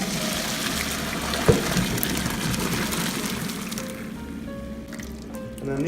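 Water from boiled potatoes pours through a strainer in a steady splashing rush that thins toward the end, with a sharp clink of the strainer near the start.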